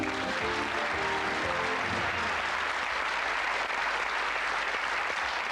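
A studio audience at a 1990 UK television game show applauds steadily and loudly throughout, a dense wash of clapping with no voices over it.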